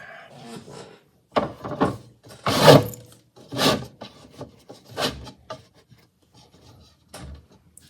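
Chatter tool cutting into wood, likely turned work on a lathe, heard as irregular bursts of close, raspy scraping and rattling chatter separated by short pauses.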